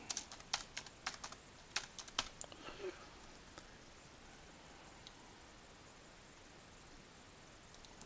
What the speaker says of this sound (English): let's type property insurance